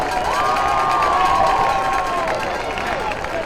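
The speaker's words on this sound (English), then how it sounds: "Let's have a round of applause for the Cardinal Marching Band" A stadium crowd at a high school football game cheers and claps for the Cardinal Marching Band, a loud, continuous roar of voices and applause with whistles gliding through it.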